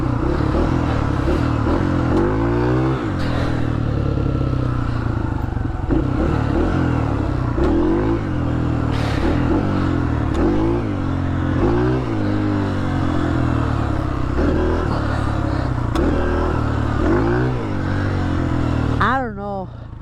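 A dirt bike engine drones loudly throughout, with repeated revs swelling and falling while wheelies are attempted, over wind noise and a voice speaking.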